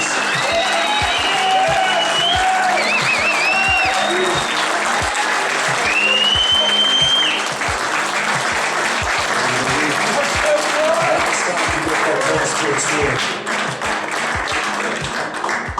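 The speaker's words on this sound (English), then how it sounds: "Give him a round of applause." Sustained applause from an audience honouring the winning anglers at the FLW small craft bass fishing championship at Boskop Dam, South Africa, dense steady clapping for about sixteen seconds with crowd noise and a few cheers mixed in.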